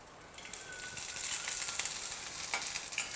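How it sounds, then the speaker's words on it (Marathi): Grated dry coconut roasts in a little oil with garlic and green chili for Nagpur-style tarri poha, giving a soft, close, crackling sizzle that swells gradually and carries scattered light pops. "आणि खोबरं हे भाजून घ्यायचं."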